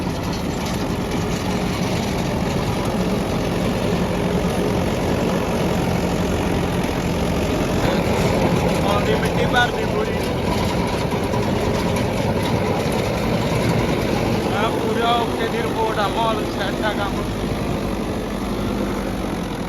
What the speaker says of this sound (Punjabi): ਜ਼ੋਰ ਪੂਰਾ ਲਾਉਂਦਾ ਟਰੈਕਟਰ ਇਹ